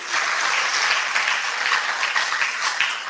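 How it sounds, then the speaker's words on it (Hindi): Dense, lively applause from participants at a stress-relief meditation session, continuous and fairly loud throughout its short span with no speech over it. "तालियां बजाएं खुद के लिए।"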